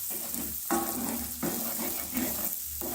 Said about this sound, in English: So we're just going to go ahead and scramble the eggs.